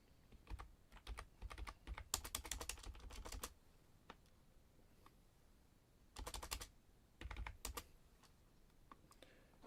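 Typing on a computer keyboard, bursts of rapid close key clicks separated by pauses and a few isolated keystrokes, fairly quiet.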